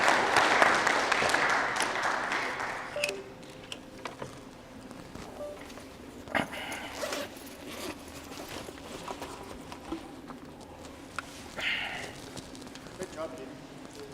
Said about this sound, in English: if you would please give me one more round of applause for Peter for coming up.